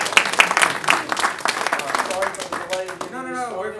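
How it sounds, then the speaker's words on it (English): A class audience in a church teaching session claps for a short stretch, a scattered patter of hands that fades as a voice begins speaking over the end. "And so let's give Scott a big round of applause."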